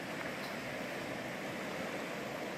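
Steady rushing of the Spruce River flowing close by, a continuous dense broadband roar of moving water with no voices and no breaks.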